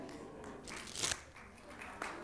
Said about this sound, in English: this is called the Russian shuffle because it's one card, Russian after another